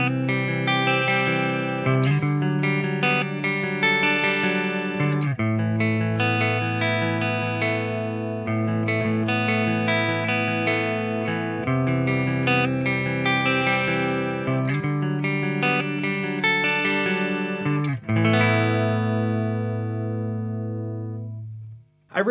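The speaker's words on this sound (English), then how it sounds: "I'll start out with a nice sparkly clean tone on the clean channel" Electric guitar on the clean channel of a Crab Brown Eye amp rings out sustained chords and arpeggiated notes, bright and sparkly, played steadily and alone before a final strum lets ring and fades out.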